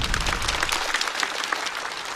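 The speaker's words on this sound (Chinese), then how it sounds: "再次掌声送给曹国" Audience applause for stand-up comedian Cao Guo at a comedy show, a dense, steady wash of clapping from a large crowd that holds through the whole moment with no talking over it.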